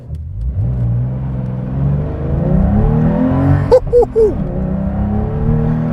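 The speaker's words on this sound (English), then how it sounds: "Oh, that 3-litre engine, my goodness." A Porsche 911 T's three-litre engine revs up and accelerates in sport mode with a rising, throaty drone, a brief sharp burst of noise partway through.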